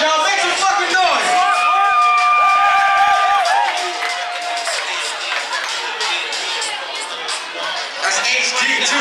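A concert crowd cheers, whoops and shouts continuously, loud and close, with whistles and sustained yells rising over dense babble, while an MC's voice cuts through near the start.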